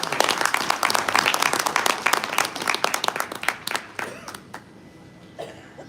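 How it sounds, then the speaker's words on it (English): Guests at a convention gala dinner applaud in a dense burst of clapping with sharp individual claps standing out, thinning out toward the end. "Please give a big round of applause to Arif Zafar Mansuri Sahab."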